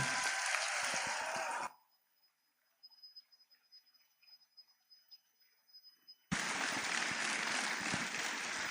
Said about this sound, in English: giving a hearty round of applause to all of them and to their proud parents as well